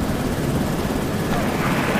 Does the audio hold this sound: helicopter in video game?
yes